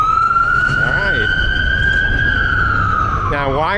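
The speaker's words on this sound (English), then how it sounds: "fire department ambulances" A loud fire department ambulance siren on a Manhattan street holds a long, slowly bending wail while people talk over it in short bursts.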